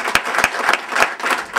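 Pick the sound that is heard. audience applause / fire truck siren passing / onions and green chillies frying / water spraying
audience applause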